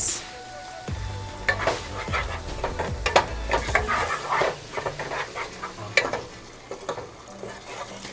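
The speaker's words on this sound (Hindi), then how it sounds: "साथ ही डाल देंगे हम चिली गार्लिक सॉस" Chili garlic sauce going into a sizzling pan of chicken 65, stirred about. A close, continuous sizzle carries repeated scraping and stirring clicks with an uneven rhythm.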